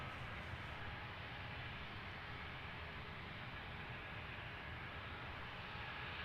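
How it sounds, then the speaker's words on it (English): easyJet airliner climbing out after takeoff from London Gatwick, a distant broadband jet roar holding steady and fairly faint throughout. "in the climb out from this easyJet"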